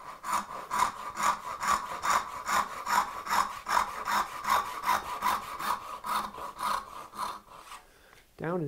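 A hand saw rips steadily through wood while cutting houndstooth dovetails, with about twenty rhythmic back-and-forth strokes close up, each one a rasping buzz, before the sawing stops near the end.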